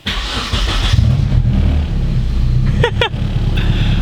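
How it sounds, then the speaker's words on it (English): A car engine with new polyurethane engine and transmission mounts cranks, catches and settles into a loud, steady idle up close, with a couple of short chirps partway through. "I'm gonna turn the car on and take a look at the shifter"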